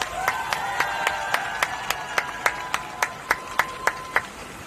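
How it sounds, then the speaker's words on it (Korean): A political campaign rally crowd claps in unison, producing a steady train of evenly spaced claps that grow slightly louder, with a sustained tonal hum beneath and no speech. "이렇게 호소하는데 동료신 박수 한번 주세요."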